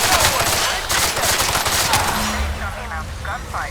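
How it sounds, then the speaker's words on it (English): Rapid automatic gunfire from a shooter game, The Outer Worlds: Spacer's Choice Edition, loud and continuous bursts filling the scene for several seconds with no speech over them. "Based on the amount of gunfire I heard"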